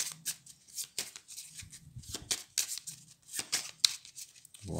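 Cards for the Dinoblivion board game being shuffled by hand at a table, a series of quick crisp riffling bursts with short pauses between them, close and fairly quiet.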